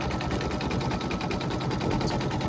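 An embroidery machine stitches a design outline onto a towel, a fast, steady, close mechanical chatter of needle strokes running continuously and evenly without pause.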